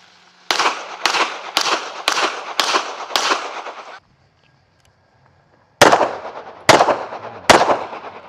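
Pistol shots fired during a shooting drill, a rapid string of six loud sharp cracks, a pause, then three more spaced reports, each crisp and close with a brief ringing tail.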